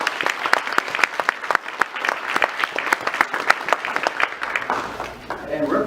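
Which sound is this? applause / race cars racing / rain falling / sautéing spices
applause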